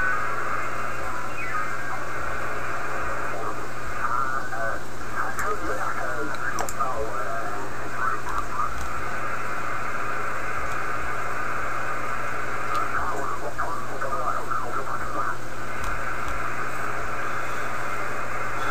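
Ham radio receiver scanning an amateur band, a steady hiss and hum with faint warbling signals and bursts of distant, garbled voice activity drifting in and out throughout.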